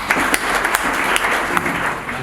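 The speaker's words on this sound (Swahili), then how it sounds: "Simpigie makofi jamani" An audience applauding at an immigration department visit by a government minister, a dense burst of clapping with sharper individual claps, loud and close, with a voice talking over it.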